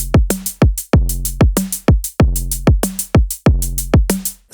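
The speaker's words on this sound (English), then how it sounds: "Here's a basic beat with a kick, hi-hat and snare." A basic programmed drum beat plays in a steady loop, with punchy kick drums, crisp hi-hat ticks and a dull snare hit landing on the backbeat, dry and alone with no other sounds.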